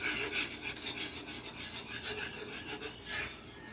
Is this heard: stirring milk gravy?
yes